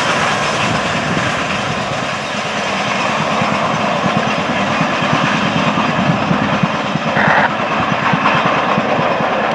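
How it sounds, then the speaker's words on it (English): An FEC freight train rolls along the main line, a loud, close, continuous rumble of wheels and cars with steady clatter throughout and no voices. "Good-looking train on the run down the West Main."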